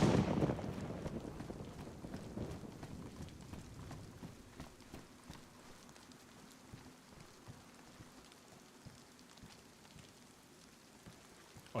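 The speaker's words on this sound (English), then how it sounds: "Oh, it's now starting to rain, and you get thunder." Rain falls in the woods of DayZ Chernarus, a steady hiss of drops with a heavier rumbling onset at the start that fades into soft patter.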